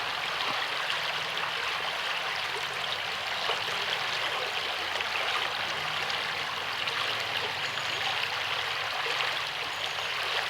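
River water flows steadily past a bench on a countryside walk near West Meon and Warnford in Hampshire, a continuous soft rushing babble with no voices.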